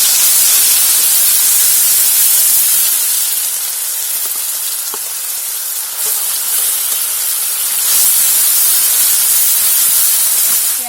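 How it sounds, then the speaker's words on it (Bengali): Ground onion paste fries in mustard oil over a tempering of cracked cardamom and a little sugar for a jackfruit curry, giving a steady, dense hiss that runs evenly for the whole stretch with no talking. "পেঁয়াজটা এরকম লাল লাল করে একটু ভাজা হয়ে গেলে"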